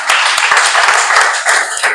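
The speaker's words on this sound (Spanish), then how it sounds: "Vamos a darle ese aplauso al Señor." A church congregation applauds loudly and close by, with rapid, dense clapping that briefly dips halfway through before picking up again.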